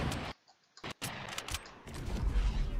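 Gunfire in Fortnite: a few sharp cracks and short bursts broken by sudden gaps, then a steady busy run of shots toward the end.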